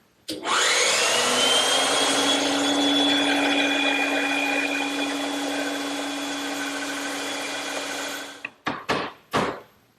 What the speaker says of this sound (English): I can do it either by hand or use my bandsaw.